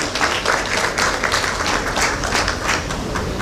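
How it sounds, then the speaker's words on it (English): A conference audience at an opening ceremony claps for two speakers, a brief burst of many hands applauding fairly close, lasting a few seconds without talk over it. "Can we give a clap to both our speakers?"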